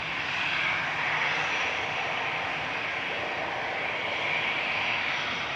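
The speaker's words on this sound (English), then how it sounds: "Landing in parallel is EasyJet 716 from the Isle of Man." An EasyJet airliner lands at Manchester Airport on a parallel runway, its steady, fairly distant engine roar filling the air as a broad, even rush with no voices over it.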